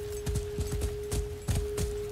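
Rhythmic hoofbeats of a galloping horse in the video game The Last of Us pound at a steady quick pace, clear and close, over a faint constant hum.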